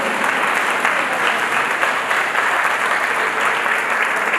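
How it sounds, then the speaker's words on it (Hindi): A standing audience at a commemorative event on the Poona Pact gives a professor thunderous applause, a loud, even, unbroken roar of many hands clapping close by, with no speech over it. "आप सब खड़े होकर तालियों की गड़गड़ाहट से इनका स्वागत करें।"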